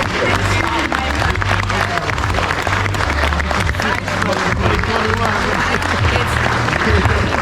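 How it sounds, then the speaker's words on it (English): Wedding guests clap and cheer after a toast at a reception; energetic, continuous crowd applause with a low music bass line underneath and voices mixed in. "Nice round of applause for us."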